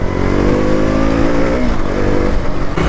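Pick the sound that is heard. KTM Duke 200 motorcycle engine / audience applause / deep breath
KTM Duke 200 motorcycle engine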